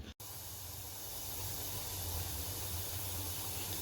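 Homemade ghee clarifying in a heavy-bottomed pot gives off a soft, even hiss of fine bubbling that runs continuously after a brief cut at the very start.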